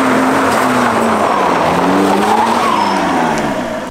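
An Alfa Romeo accelerates hard with traction control off, its engine roaring loud and close while the tires squeal continuously in wavering tones throughout, with no voices over it.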